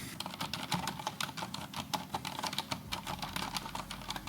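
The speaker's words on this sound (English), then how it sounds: "Hear how this keyboard sounds when we are typing on it." Rapid, steady typing on an IQUNIX mechanical keyboard with silent switches, soft, muted clicks, close and continuous, no voices.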